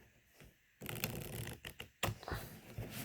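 Two quick riffle shuffles of unsleeved Keyforge playing cards, close and crisp, each a fast fluttering burst of card edges followed by a soft tap as the deck squares up, with no talking.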